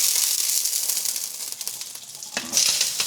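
Olive oil sizzling in a pan before bacon goes in, a bright, steady hiss that thins slightly midway and then flares louder again near the end, with no talking.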